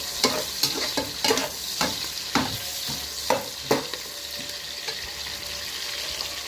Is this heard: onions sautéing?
yes